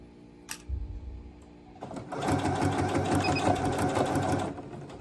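A sewing machine starts after a short pause and runs steadily for about two and a half seconds of dense, rapid stitching, close and fairly loud, then stops; a few small knocks come before it.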